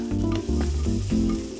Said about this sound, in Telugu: ఒక కడాయిలో నూనె కొద్దిగా వేసుకొని నూనె వేడయ్యాక జీలకర్ర, కరివేపాకు, ఉల్లిపాయలు వేసి వేయించుకోవాలి.